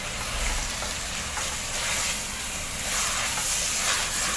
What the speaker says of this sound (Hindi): इसको भूनेंगे, दही, मसाला, अदरक, लहसुन, अनियन को।